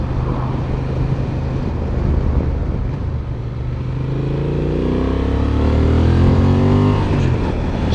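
A 2025 Honda Transalp 750 motorcycle engine drones steadily on an open road, then climbs in pitch as it accelerates, loud and close, with rising harmonic whine over a constant rumble.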